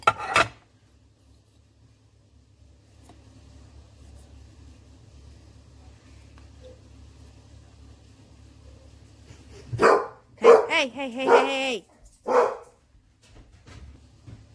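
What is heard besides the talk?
dog barking outside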